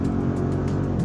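An Audi SQ7 or SQ8 with the sport exhaust emits a deep, continuous engine rumble with a throaty low growl that stays loud and steady throughout, with no talking over it.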